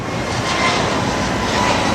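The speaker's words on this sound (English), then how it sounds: "there's an airplane leaving right there" A Jetstar airliner takes off from Bali's airport, heard as a loud, steady, broad engine roar rising slightly.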